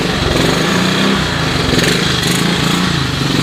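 A 1986 Honda TRX125 ATV idles on a cold start with the choke on, a loud, close, steady small-engine buzz with a rapid rattling pulse and no pauses.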